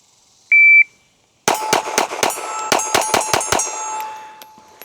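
A Smith & Wesson M&P Bodyguard 2.0 pocket pistol is fired rapidly, about nine sharp close shots after a short electronic start beep and a brief silence, with metallic ringing between the reports.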